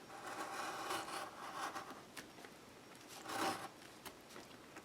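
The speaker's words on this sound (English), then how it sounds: "with my ruler and my X-Acto blade. I'm going to save the part that I'm cutting" X-Acto blade drawing across paper along a ruler, quiet scratchy scraping strokes in a few short passes, close and soft.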